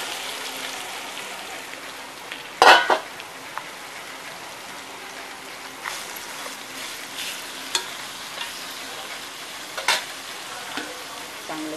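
Mutton fries with asafoetida in oil in a village kitchen, with a steady, rain-like sizzle throughout and a few sharp clatters from a utensil, one louder knock early on.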